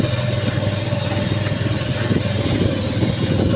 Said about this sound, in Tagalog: Ang dami pong motor dito.